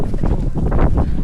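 Strong wind at a beach in Desaru gusts across the microphone in short, rough bursts of buffeting noise throughout.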